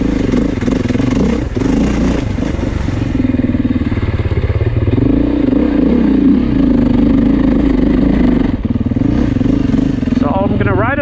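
A 2024 Beta 430 Race dirt bike ridden on a low-traction demo loop, its engine droning loudly and steadily throughout with slight rises and dips in revs, under heavy wind buffeting.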